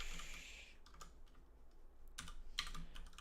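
Quiet typing on a computer keyboard, a few short bursts of soft key clicks with brief pauses between them.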